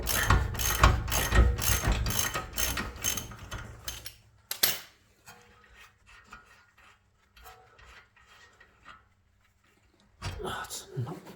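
Ratchet clicks in a rapid burst on the rear wheel bearing bolts of a Jaguar XK XKR 4.2 (X150), loud and close for about four seconds, then quieter intermittent turning, with a short burst again at the end; someone talks over parts of it.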